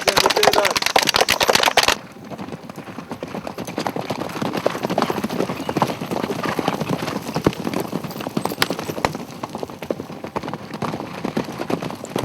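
Horses' hooves clip-clop in a quick, uneven rhythm on hard ground, several animals ridden by cadets at the National Defence Academy close by, with a louder burst of noise at the start.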